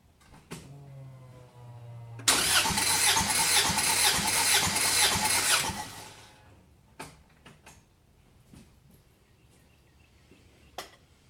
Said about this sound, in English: And then crank it. Give it a couple, rotations.